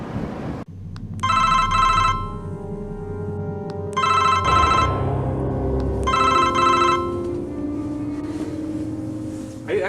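A telephone bell rings in three loud, evenly spaced bursts over a steady low rumble, with short gaps of background noise between rings.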